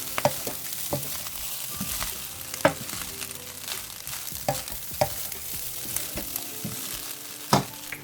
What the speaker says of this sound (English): fried rice is currently cooking. frying.